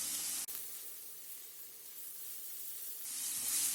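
Grated ginger and garlic hit a hot pan over a high flame, giving a loud, bright hiss that cuts briefly, settles into a softer steady sizzle, then flares up loud again near the end.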